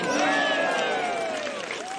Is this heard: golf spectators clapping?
yes